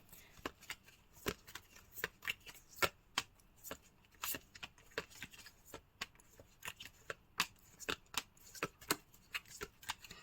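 Tarot cards shuffled and drawn from a deck during a reading, a steady run of sharp, quick riffling snaps and flicks close by, fairly soft, with no talk over them.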